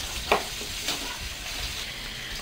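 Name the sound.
deep frying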